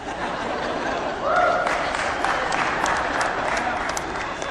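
A crowd applauds steadily throughout, with scattered chuckles mixed into the dense clapping.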